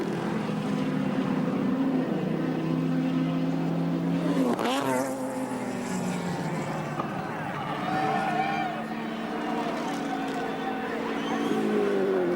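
Touring race cars roar around Surfers Paradise Raceway during a 1983 ATCC round, a continuous loud engine drone with shifting pitch and a sharp pass-by sweep midway, under a commentator's steady voice.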